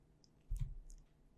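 A single soft mouse click while working in Vectric V11 design software, one quiet click standing alone against near silence.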